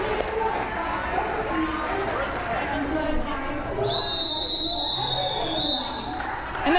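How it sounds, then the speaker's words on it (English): A referee's whistle at a modern roller derby game between Patuxent and NOVA, a long shrill blast over steady crowd and skating noise, followed by a second short toot near the end. "we're waiting for that final whistle"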